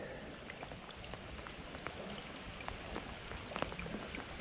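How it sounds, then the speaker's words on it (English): October rain falls on the River Ayr in Scotland during salmon fly fishing, a steady close hiss of heavy drops on water and surroundings, with scattered sharper drop impacts and no speech. "So we're getting October rain."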